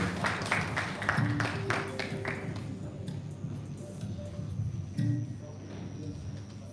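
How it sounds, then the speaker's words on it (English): Audience clapping for quiz contestants at a memorial quiz competition, dense applause at first that thins and fades, with some voices in the room. "Let's clap for them, please"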